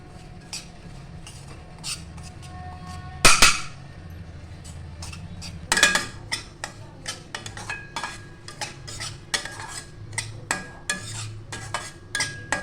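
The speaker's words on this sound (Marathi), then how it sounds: "एक पाच मिनटं रवा भाजून घ्यायचा आहे" Semolina dry-roasting in a pan for semolina gulab jamun, stirred with a metal spoon: repeated close clinks and scrapes against the pan, with two sharper clangs early on and no voices.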